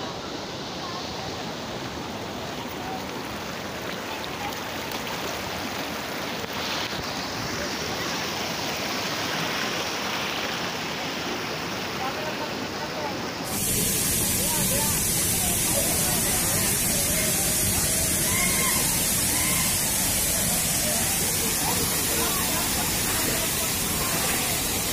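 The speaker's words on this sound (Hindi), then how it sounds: "पानी का बहाव काफ़ी तेज है" Fast-flowing stream water rushes steadily across the whole stretch as a dense, continuous hiss, growing noticeably louder and closer about halfway through.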